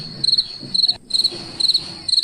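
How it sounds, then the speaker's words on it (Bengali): Crickets chirping at night in a rural Bengal village, a bright, rapid, pulsing trill repeating in short bursts with brief gaps, close and clear over a faint low background. "কখনো ঝিঝি পোকার ডাক।"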